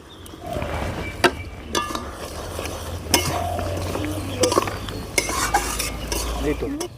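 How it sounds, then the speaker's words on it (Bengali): Raw mango pieces being stirred into thick jaggery syrup, with a spoon scraping and knocking against the pot and a soft bubbling sizzle underneath, close by with no talk. "আমগুলোকে আমি গুড়ের সঙ্গে ভালো করে মিশিয়ে নিয়েছি"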